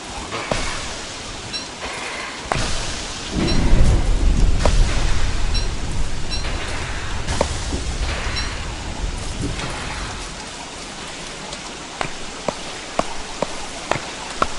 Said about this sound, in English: Oh, rain, that's right.